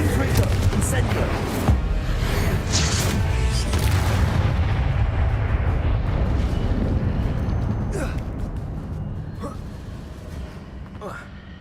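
Spell blasts from Confringo and Incendio boom and burst in the Hogwarts Legacy video game, a dense continuous rumble of fiery explosions that gradually fades toward the end, with a voice talking over it.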